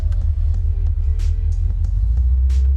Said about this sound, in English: Let's go ahead and go for a ride. I'm gonna put it into gear.